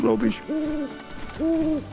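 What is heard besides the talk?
owl hooting in video game Final Fantasy VII Rebirth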